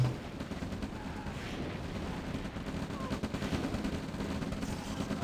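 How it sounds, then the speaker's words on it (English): Tanks firing at power plants in the real-time strategy game Red Alert, a steady rattle of gunfire and explosions forming a dense continuous battle din at moderate level. "I've gone for the power plants with my tanks"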